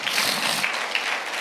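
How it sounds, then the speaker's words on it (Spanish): Church congregation applauding during a Spanish-language sermon, a dense, bright burst of many hands clapping together, loud and continuous for the short span. "dale un aplauso al Señor"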